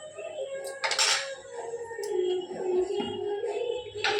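Cooking pot being covered with its lid in a home kitchen: a couple of close metallic clanks and clatters of lid against pot, set against a low, steady simmering background.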